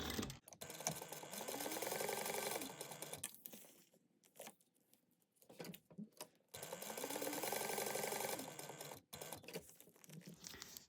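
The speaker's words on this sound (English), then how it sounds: "you're going to sew down each side at 1/8 of an inch" Sewing machine stitching down the sides of fabric pieces at an eighth of an inch: two long stretches of steady, close mechanical whirring with rapid needle chatter, separated by a quieter pause with small handling noises.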